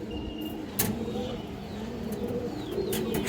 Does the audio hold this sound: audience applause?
no